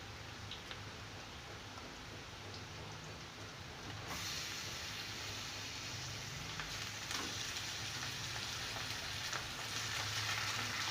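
Chicken pieces go into softened, browned onions in a hot pan for a chicken stew, setting off a steady, fairly loud sizzle that swells partway through and keeps crackling evenly with no talk.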